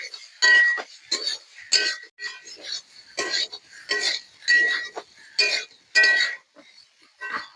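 Metal spatula clinking repeatedly against a pan while potato and jackfruit are stir-fried, giving sharp, bright scrapes and clinks in an irregular rhythm with short quiet gaps between strokes.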